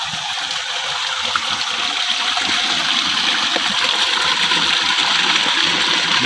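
Water pours steadily from a farm irrigation pump that delivers weak pressure, a continuous close rushing and splashing that holds an even level throughout with no pauses.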